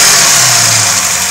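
Engine of an RC car revving, a loud, close, buzzing whine held steadily for a moment with no talking.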